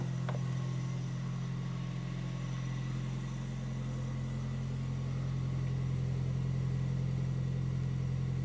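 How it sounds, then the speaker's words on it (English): A 2026 Toyota 4Runner TRD Pro's hybrid four-cylinder gas engine idles outdoors, giving a steady low hum that stays even and continuous throughout, with no talking. "Let's listen to the idle from outside."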